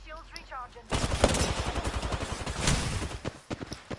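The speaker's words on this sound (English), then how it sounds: "I'm taking fire. Being shot at. Firing." Video game gunfire in rapid bursts, loud and close, with a dense rattle of shots after a brief quieter opening and scattered voices underneath.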